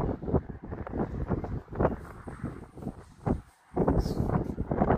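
Strong wind buffets the microphone in heavy, uneven gusts in Naples, Italy, during a cold, rainy spell, with rumbling blasts and only a brief lull.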